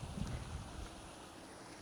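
Wind at a lakeside campsite in Cavinti, Laguna, a steady broadband rush with stronger low buffeting in the first second, then easing into a quieter, even blow.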